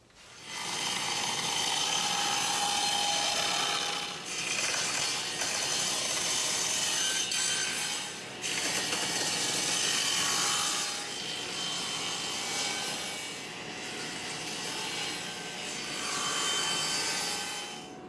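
Pallet wood is cut into 2.5-inch strips with a power saw, long loud whining passes that last several seconds each and are separated by short dips, heard alone without speech.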